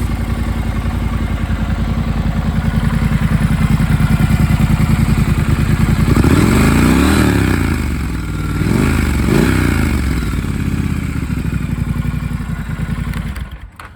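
A 2019 Triumph Scrambler 1200 XE motorcycle engine runs steadily and close by, with a deeper surge midway as it is revved, then settles back to a loud continuous idle.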